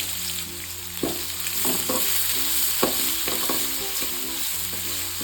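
Chopped onions sizzle and fry in a pan with steady crackling, while a spoon stirs and scrapes against the metal in several distinct clinks throughout.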